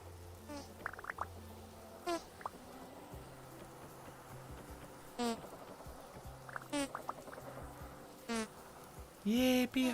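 Bees buzz in repeated short bursts during a bee harvest in the video game Vintage Story, with fluttering drones rising and fading over a quiet ambient background and a louder close pass near the end.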